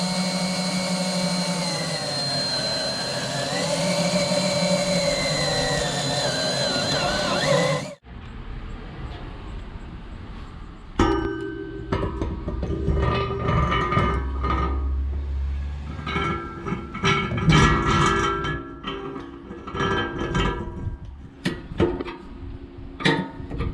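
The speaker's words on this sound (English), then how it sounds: "We're going to drill our holes" A drill, probably a power drill, bores mounting holes for a fuel cell in a derby car in a garage. A steady, pitch-shifting whine stops abruptly partway through and gives way to irregular metallic clatter and knocks.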